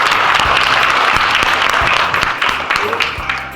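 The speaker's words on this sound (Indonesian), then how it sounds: "Berikan aplaus untuk Bapak Ibu Gubernur kita." Sustained applause from a large audience greeting the governor at a community reunion gathering, dense clapping throughout, loud and close, with a faint voice under it, tapering slightly toward the end.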